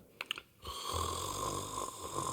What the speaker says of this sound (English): That's half asleep because he's snoring just a little bit.